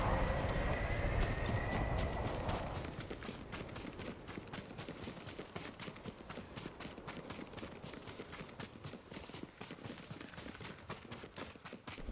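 Rapid hoofbeats clatter steadily as a horse gallops in the video game Ghost of Tsushima, with a brief neigh early on over a dense, noisy backdrop.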